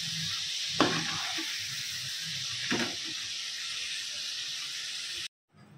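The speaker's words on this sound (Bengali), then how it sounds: "আমার নিমকিগুলো ভাজা হয়ে গেছে।" Nimki, a fried flour snack, frying in oil on a low gas flame, with a steady close sizzle and hiss and a couple of brief stirring clatters before it cuts off.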